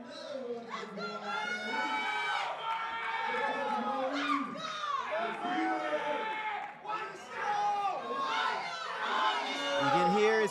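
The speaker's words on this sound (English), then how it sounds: "You can hear his coach and the audience members yelling for him." Crowd and coach yelling and cheering for a powerlifter on a heavy barbell attempt at a powerlifting championship, a steady wash of mixed shouts with a commentator talking over it.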